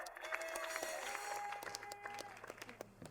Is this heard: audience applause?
yes